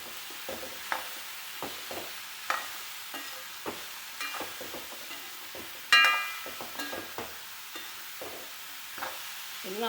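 A spatula scrapes and taps while an ivy gourd stir-fry is mixed in a pan under a faint sizzle, with irregular knocks and one sharper metallic clank.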